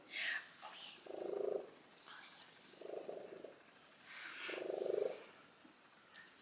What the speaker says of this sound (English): See, his purr is still working.